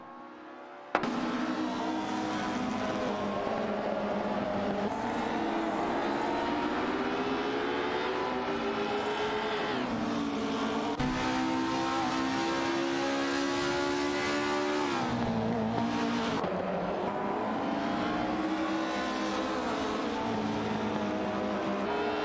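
Race cars on a track give a continuous, loud engine roar with rising and falling revs as cars accelerate and pass, sustained through the whole stretch after a sudden start.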